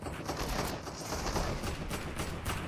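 Rapid, sustained automatic gunfire from a heavy assault rifle in the video game Fortnite, a dense, continuous burst of shots that stays loud and close throughout without any talk.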